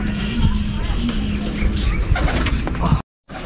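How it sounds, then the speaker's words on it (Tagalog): Racing pigeons coo with low, rolling calls, close and loud against a busy outdoor background with people talking, ending in a brief cut to silence. "Ayan mga kalapatid, si Blue Bar White Flight."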